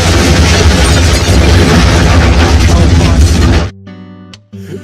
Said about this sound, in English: the explosion faded out and it led right into Life is Beautiful from Deadly Premonition